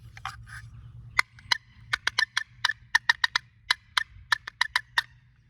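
Sharp, short clucks from a turkey box call pop out one by one in an irregular rhythm, close and fairly crisp over a low hum.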